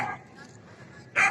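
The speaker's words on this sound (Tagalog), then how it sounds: "Ito ang aso nila." A small pet dog belonging to a household gives a short, loud bark or yip near the end, briefly rising over quiet background chatter and ambient noise; people talk nearby.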